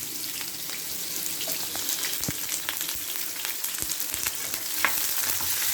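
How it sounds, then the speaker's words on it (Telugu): Onions sizzle and fry steadily in a hot pan for sambar, a continuous close crackle with scattered pops and light stirring noises. "ఇప్పుడు ఆనియన్స్ వేసేస్తున్నాను."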